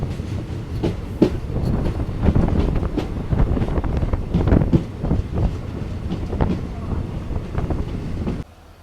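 A train rolls along railway tracks in northeast India after pulling out of a station on the Mendipathar to Guwahati line, with a steady rumble, rhythmic clickety-clack and wind buffeting the microphone.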